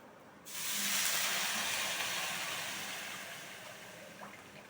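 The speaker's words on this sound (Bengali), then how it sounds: "এবার এতে জল দিয়ে দিচ্ছি, দেখো" Water poured into a hot pan for momo soup sets off a sudden loud, steamy hiss that holds steady and slowly fades over several seconds, with no voices.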